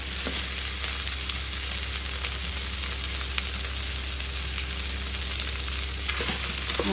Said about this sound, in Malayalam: മല്ലിപ്പൊടി നല്ലപോലെ നിളക്കുക അതിൻ്റെ ഒരു പച്ചമണം പോകുന്ന വരെ ഒന്ന് ജസ്റ്റ് ഫ്രൈ ചെയ്ത് കൊടുക്കുക